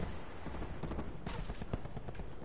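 Scattered gunfire in the first-person shooter Black Ops 4, with shotgun blasts in the mix, rendered as several sharp bursts over a dense, rumbling battle background at modest volume, with no voices.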